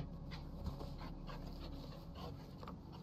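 A fluffy dog in the video game Red Lantern pants steadily in quick, rhythmic breaths, soft and fairly faint over a low background hum.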